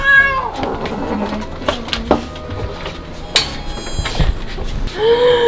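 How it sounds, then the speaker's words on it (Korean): A cat meows loudly and insistently several times, harsh and drawn out like an angry yowl, with some household clatter in the background. "티티는 화나가지고 막 소리 지르고 짜증날 때도"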